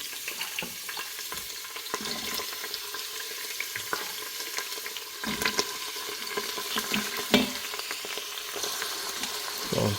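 Scallion segments, ginger and garlic sauté in a hot pan, a continuous close sizzle with dense crackle and frequent spatula scrapes and clinks over ten seconds.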